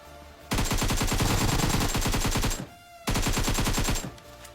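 Automatic gunfire from the video game PUBG comes in two loud, rapid bursts, the first longer than the second, with a short pause between them.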